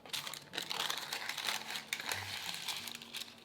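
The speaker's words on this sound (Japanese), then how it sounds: "型に紙を引いておきます。" Baking paper crinkles and rustles as it is pressed into a cake tin for a chocolate gateau, a close, continuous crackling with a few sharper crumples and no talking.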